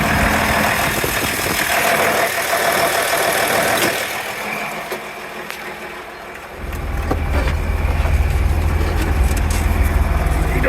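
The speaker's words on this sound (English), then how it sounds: "Let's go drive this 4430 around. It's kind of a fun little tractor." A 4430 tractor engine idles with a low, steady chugging rumble, then swells noticeably louder and fuller partway through as it revs up, close by and without talk.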